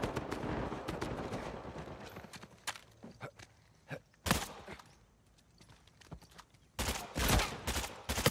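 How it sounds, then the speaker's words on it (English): Gunshots in Uncharted 4 multiplayer, scattered sharp cracks and a few louder bursts among quieter game noise, with brief intense volleys near the end. "The sound of gunfire."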